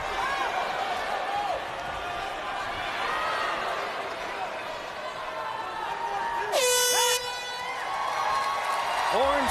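A loud air horn blasts once for about half a second to end round two of an LFA flyweight MMA bout, over steady arena crowd noise and ongoing commentary.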